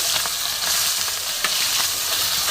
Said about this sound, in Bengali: দেখো রুই মাছের মাথা আমার এক পিট ভাজা হয়ে গেছে আমার এক পিট উল্টে দিচ্ছি